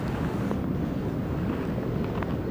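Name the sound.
strong wind blowing at a riverbank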